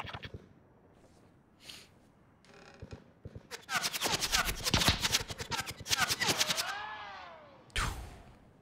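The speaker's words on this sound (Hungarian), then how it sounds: "Lövések." Gunfire in Call of Duty: Warzone during a Godzilla vs King Kong event: bursts of rapid automatic shots, loud and close, under quiet speech.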